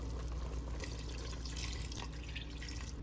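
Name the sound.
water being poured into a cooking pot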